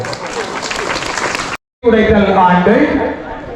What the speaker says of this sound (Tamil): எங்கே உங்களுடைய கரகோஷம்